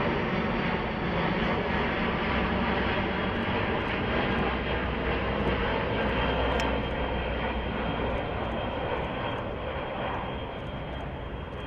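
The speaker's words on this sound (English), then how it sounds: "This A-10 shooting flares." An A-10 attack jet roars past while firing flares, a loud, steady engine rumble that fills the whole stretch and eases slightly toward the end, with faint crackles above it and no talking.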